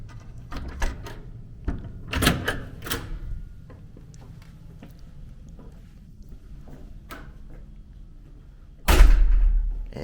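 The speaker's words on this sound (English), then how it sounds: "And the door kind of slams pretty loudly" A hotel room door in a standard king room slams shut with a loud, heavy thud near the end, preceded by scattered clicks and handling knocks of the magnetic key-card lock and handle.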